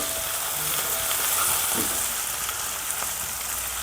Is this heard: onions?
yes